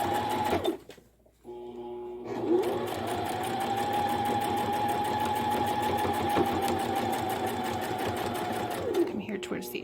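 A sewing machine runs a kitchen boa or kitchen scarf seam with a steady, loud, whirring stitch. It stops for a moment early on and then runs on without a break. There is no talking over it.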